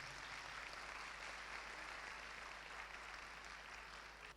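Church congregation clapping at a Sunday meeting, a faint, continuous wash of many hands heard from a distance, low in level and steady throughout.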